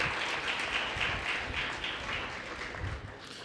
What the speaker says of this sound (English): give her a round of applause for the leg that she ran